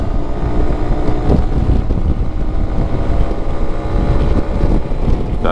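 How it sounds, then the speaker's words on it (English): Suzuki Burgman 200 scooter pulling away from a standing start at full throttle, a loud continuous engine drone buried in heavy wind rush across the microphone. "let's go from a standing start. Full throttle, and here we go."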